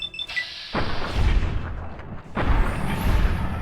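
A headshot in Fallout: New Vegas, with two booming gunshots about a second and a half apart, each followed by a low rumbling tail, heard close and alone.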